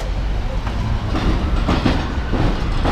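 A tram rolls past on the rails, a steady rumbling clatter with wheel noise, fairly close and loud, no talking.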